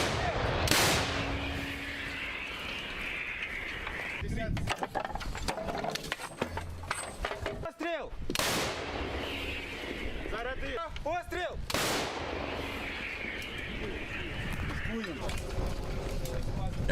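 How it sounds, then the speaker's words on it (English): M777 howitzers firing in combat in Ukraine: a few loud, sharp booming blasts spaced several seconds apart, with mechanical clatter and a voice talking over the footage between shots. "So here's an example of those M777 howitzers being used in Ukraine."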